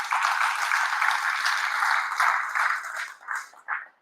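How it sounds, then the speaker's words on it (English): At an awards event, an audience gives a sustained round of clapping that thins out and breaks into a few last scattered claps near the end. "you guys are welcome to give them a big round of applause"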